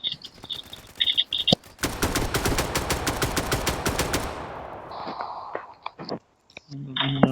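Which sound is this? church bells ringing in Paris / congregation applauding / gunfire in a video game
gunfire in a video game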